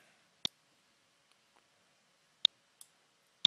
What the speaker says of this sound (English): Clicking this button.